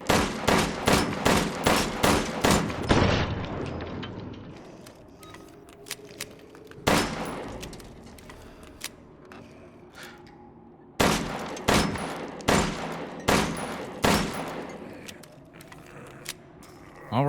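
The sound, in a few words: LEMI pistol firing, fully upgraded, from video game Resident Evil Village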